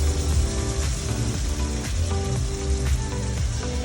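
Egg frying in a tomato sauce for a yam and egg dish, a steady close sizzle and crackle that runs the whole time with no talking.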